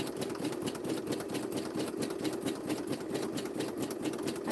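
A sewing machine stitching a 3D suitcase craft project hums in a fast, even mechanical chatter, steady and close without pause or voices.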